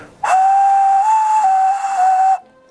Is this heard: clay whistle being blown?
yes